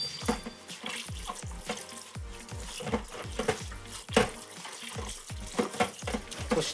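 Cold tap water runs over boiled cabbage in a kitchen sink, a close, steady splashing gush with irregular surges and spatters as the leaves shift under the stream; no one talks.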